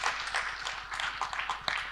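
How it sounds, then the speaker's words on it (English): At a formal launch ceremony for an education management system, the audience gives a round of applause, a close, dense patter of many hands with sharp individual claps poking out, steady over the whole moment. "Let's give ourselves a round of applause."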